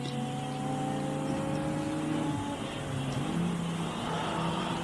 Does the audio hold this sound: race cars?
yes